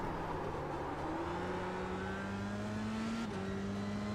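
An F3 race car engine in the iRacing sim drones steadily at high revs, with pitch climbing gradually through the gears and a brief shift dip near the end, continuous and close.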